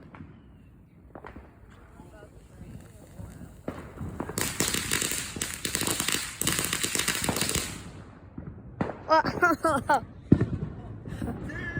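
Fireworks of the 5-inch mortar shell type burst in a dense grand-finale barrage, a long loud stretch of overlapping booms and crackle followed by several more sharp, separate explosions, while people talk and exclaim throughout.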